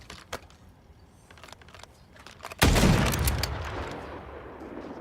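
A single loud sniper rifle quick-scope shot in Call of Duty: Modern Warfare III, a sharp close blast with a long decaying tail, following faint clicks and rustles.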